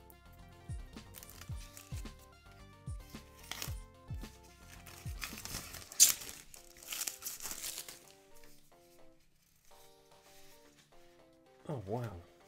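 Blade slicing and plastic film crinkling as the corner of a Paprium game package for the Sega Mega Drive is cut open, a run of short rhythmic scrapes followed by rustling, close and fairly quiet.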